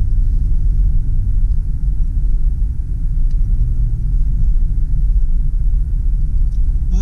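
Steady low rumble of a 2005 Jeep Grand Cherokee Limited 4WD rolling over road bumps, heard from inside the cabin, with continuous road and engine drone throughout and no talking.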